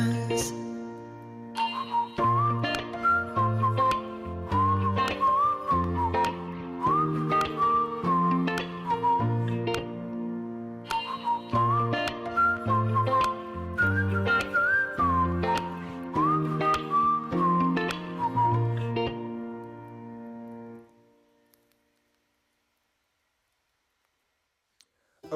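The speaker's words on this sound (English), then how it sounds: "I really liked that in bit with the like little whistling solo" A melodic whistled solo in a song plays over a plucked, clicking backing rhythm, repeating its phrase twice before the music cuts to silence.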